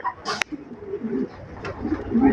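Malta pigeons at a Bengali pigeon sale coo in low, soft murmuring calls, fairly close, with a brief sharp rustle or flutter early on and steady background noise throughout.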